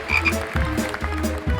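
Frog croak sound effect: deep, rubbery croaks repeating in a steady rhythm, loud and close with no voices.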